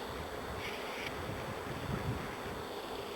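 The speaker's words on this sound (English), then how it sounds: "Oh, look at all those bees." A dense, steady buzz of many bees fills the scene close by, a continuous hum with faint wind noise and no voices.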